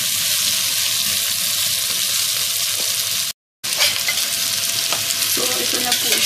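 Vegetables stirred into homemade sambar in a pot produce a continuous loud bubbling, sizzling cook noise with stirring scrapes and a faint clink, cut by a short silent gap midway.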